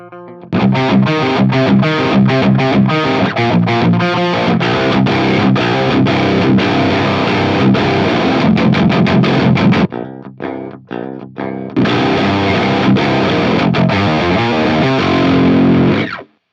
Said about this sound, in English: a fairly obscure distortion pedal by an equally hard-to-find brand, the Nibiru by Pedal Pimps